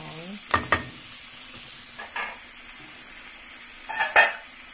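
Beef sautéing with garlic, onion and ginger for beef pares, a quiet sizzle under a few distinct metal utensil scrapes and clanks against the pan.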